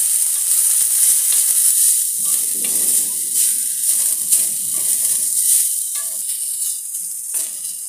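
Fresh green coriander leaves frying in a little oil in a pan, a steady close sizzle and hiss with soft stirring scrapes throughout, no talking.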